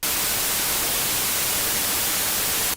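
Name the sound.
white noise generated at all frequencies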